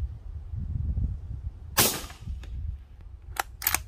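Suppressed subsonic 7.62x39 rifle shots from a Ruger American fitted with a Silencerco Omega 36M: three sharp, short cracks, one near the middle and two close together at the end, over quiet low rumble.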